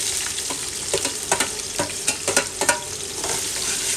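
About 250 grams of onions frying in hot oil with bay leaf and whole spices for dum chicken biryani: a loud, dense sizzle punctuated by rhythmic stirring scrapes, near and without voices.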